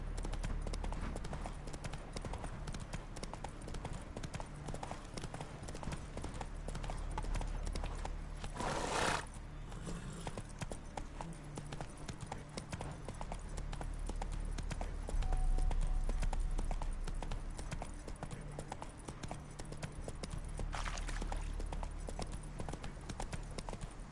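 The horse Roach in The Witcher 3 trots with steady clip-clop hoofbeats and gives a short whinny, heard faintly over low ambient background sound.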